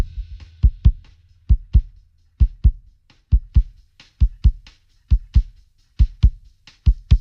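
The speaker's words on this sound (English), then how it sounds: "You can hear how snare, leak and all coming out more when you increase punch." Drum mix with the snare pushed forward by the Waves Vitamin punch knob: a loud, steady groove of sharp, punchy hits in paired patterns over a low thump, with no voices.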